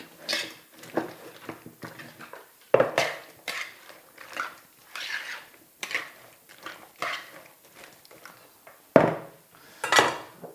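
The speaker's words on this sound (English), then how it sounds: "Give it a whisk" A whisk strikes the sides of a bowl in uneven bursts of clinking and scraping, close and fairly quiet, with short pauses between strokes.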